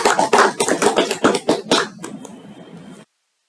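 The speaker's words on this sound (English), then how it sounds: "Give a big round of applause for Mr. Siddharth." A burst of close, vigorous clapping from a small group at a Toastmasters meeting, with crisp individual claps that thin out and stop abruptly.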